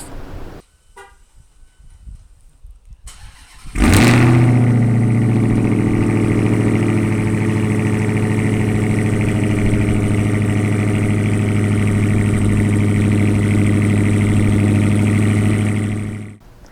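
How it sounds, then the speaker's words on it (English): After a quiet start with some faint handling noise, a Dodge Hellcat engine cold-starts with a sudden loud roar. It settles into a steady, deep, rumbling idle that holds close and strong for over ten seconds before cutting off. "let's go ahead and get things started and kick it off with a cold start"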